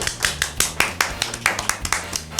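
Studio audience applause on a French-language television talk show, a burst of many hands clapping with sharp, uneven claps throughout, fairly close and steady for a couple of seconds.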